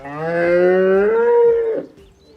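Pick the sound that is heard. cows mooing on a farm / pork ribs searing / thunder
cows mooing on a farm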